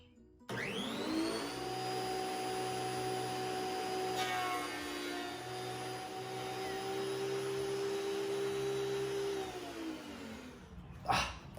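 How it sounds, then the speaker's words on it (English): A WEN 6552T 13-inch thickness planer spins up to a loud, steady whine with a droning hum, runs on evenly, then winds down, ending in a short sharp burst. "Let's turn this thing on and see what happens."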